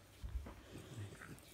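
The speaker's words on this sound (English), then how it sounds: "this is my French dog" A French Bulldog whimpers and grunts at close range, with short low whines and snuffles over about a second and a half, fairly faint.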